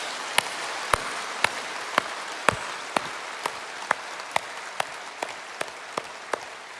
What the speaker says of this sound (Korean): 우리 감사의 박수 한번 올려드리겠습니다.